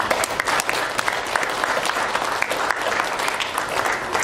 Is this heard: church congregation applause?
yes